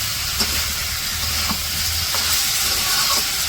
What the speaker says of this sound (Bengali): এই যে সবজি কষাইতেছে সাথে মাছ মিশিয়ে দিছে সবজির সাথে মাছও কষাই গেছে